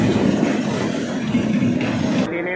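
A suburban train pulls into Liluah station, a continuous low rumble of wheels and carriages heard from on board, loud and steady, easing off abruptly near the end.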